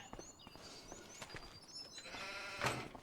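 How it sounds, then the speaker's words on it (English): Sheep and lambs in Farming Simulator 25 give faint, distant bleats over a soft outdoor ambience, with one clearer bleat near the end. "we got some sheep and some lambs growing"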